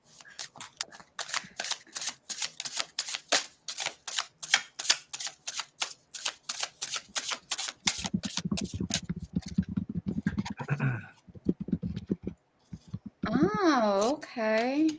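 Tarot cards being shuffled by hand, a quick run of crisp riffling snaps and flicks, loud and close, later giving way to people talking.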